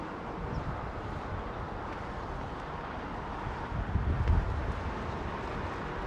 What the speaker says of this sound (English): Wind picking up a bit.